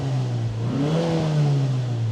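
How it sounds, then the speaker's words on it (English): The warmed-up engine of a 2000 Nissan Silvia S15 Spec R revs up and settles, its low exhaust note rising in pitch and falling back, loud and steady throughout. "the exhaust sounds really nice."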